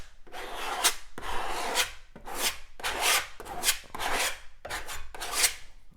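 Steel knife dragging a thin, hard skim coat straight from the tube across a surface, heard as a series of about eight loud, rasping scrapes in a steady rhythm, each stroke a close, gritty swipe.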